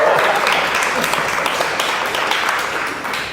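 A studio audience at a startup event cheers and applauds, a dense, steady wash of clapping and whoops that stays loud throughout and tapers slightly toward the end.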